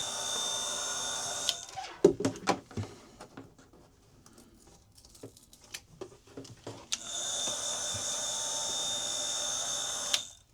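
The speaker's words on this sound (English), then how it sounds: "Just kind of going a little bit on the heat gun" A heat gun blows on flooring inside an RV with a steady whirring hiss that cuts out for several seconds of scattered clicks and scraping, then starts up again at the same level.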